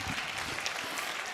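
A brief burst of audience applause for a teacher at an education event, dense steady clapping lasting only a moment.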